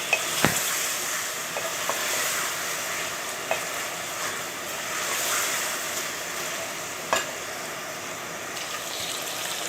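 Chicken karahi with green chillies fries in a pan, giving a loud continuous hissing sizzle with a few brief clacks from the stirring spoon.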